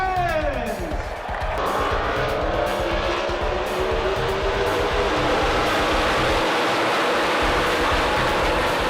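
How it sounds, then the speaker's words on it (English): Race car engines roar at the Pocono race track, a car sweeping past near the start with a falling pitch, then a loud, continuous, dense engine drone from the field for the rest. "Drivers, start your engines!"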